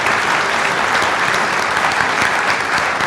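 Sustained applause from a town hall audience on opioids welcoming the Attorney General in Toledo, a dense steady wash of clapping at full loudness throughout with no voices standing out.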